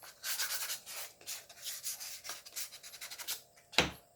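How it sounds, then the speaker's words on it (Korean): Sandpaper is rubbed along the grain of wood while building an unpowered speaker, giving close, soft rasping strokes in quick repeated bursts, with a sharp knock near the end. "자, 이렇게 해서 사포질을 다 끝냈습니다."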